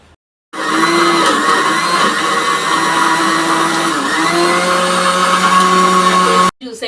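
A kitchen mixer grinder blending sapota juice, a loud steady motor whine that starts abruptly, runs evenly for about six seconds with slight dips in pitch, then cuts off.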